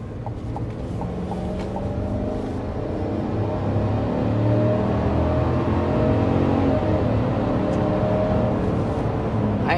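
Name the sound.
Chevy Silverado truck accelerating to 60 mph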